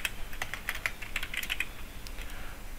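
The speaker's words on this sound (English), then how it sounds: "I am typing a p" Quick, light keystrokes clatter on a computer keyboard in an uneven burst, close and fairly quiet over a low background hum.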